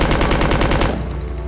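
Rapid automatic gunfire from the Resident Evil 2 video game rattles in a loud, fast burst of evenly spaced shots that thins out near the end, with no voices.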